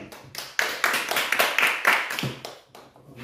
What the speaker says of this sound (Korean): 우리 하나님 앞에 박수를 드리겠습니다